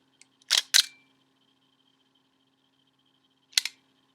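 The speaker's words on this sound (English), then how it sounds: "quiet shutter." A Kodak Retina Reflex film camera fires its quiet leaf shutter: a short pair of soft mechanical clicks, then after a pause of about three seconds a single closing click, all alone against near silence.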